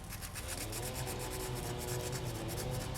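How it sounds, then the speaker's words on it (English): Wet-dry sandpaper rubs along the edges of a polymer clay pendant in quick, steady strokes, giving a close, continuous scratchy rasp with no pauses. "you're going to sand along the edges like so"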